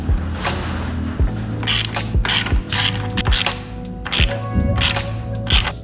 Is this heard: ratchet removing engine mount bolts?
yes